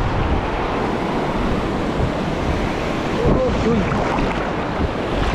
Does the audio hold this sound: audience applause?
no